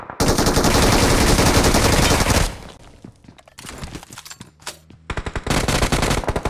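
Automatic gunfire from a BGMI battle royale match, a sustained loud burst followed by quieter scattered in-game sounds, then another rapid volley of shots near the end; no talking.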